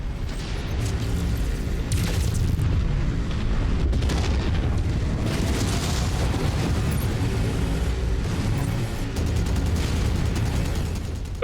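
Continuous rumbling booms and blasts from a giant battle mech exploding in MechWarrior 5, loud and dense across the whole stretch, with layered impacts and gunfire-like crackle and no talk.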